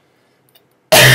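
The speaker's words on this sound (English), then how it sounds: "It was dry cough and then it became a wet cough." Near silence, then a single sudden, loud cough bursting out close to the microphone at the very end.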